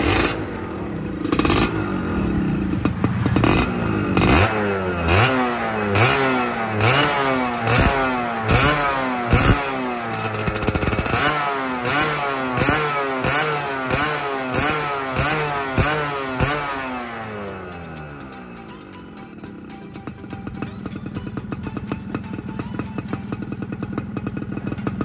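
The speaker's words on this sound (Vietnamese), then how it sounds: "Rồi tiếp theo em sẽ nổ máy nẹt cho mọi người nghe tiếng bô nha." A Xipo 110 motorcycle engine is started and revved hard again and again, the exhaust snapping through rising and falling revs close to the mic before settling into a rough idle.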